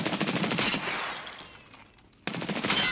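Rapid bursts of automatic gunfire from the shooter video game Escape From Tarkov, loud and close, with a brief near-silent gap before another sharp burst resumes.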